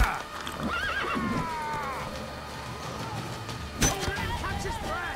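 A horse in The Witcher 3 video game gives a long, wavering neigh over galloping hooves, followed by a sharp impact; low background game sounds run throughout and voices are faint.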